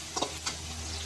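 Garlic and onion sizzle steadily in hot frying oil, a close, even hiss broken by a few brief clicks from stirring, with no talking.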